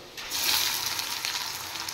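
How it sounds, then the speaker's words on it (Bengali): Onions frying in hot oil in a kadai to make beresta give off a steady, close, bright sizzle that holds evenly for the whole moment, with no voices over it. "আর এদিকে আমি একটা কড়াইয়ে তেল বসিয়ে দিয়েছি, একটু বেরেস্তা করে নেব।"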